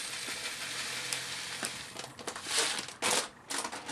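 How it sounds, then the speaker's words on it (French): Dry rice grains pour and patter into a pot in short bursts, a crisp rattling hiss that swells and pauses, close by with no talking. "Je vais rajouter encore un peu de riz."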